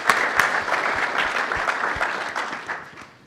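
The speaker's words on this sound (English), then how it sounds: "Please give him a round of applause." Audience applause at a public panel event on property tax relief, a dense steady patter of clapping from a crowd that slowly thins toward the end.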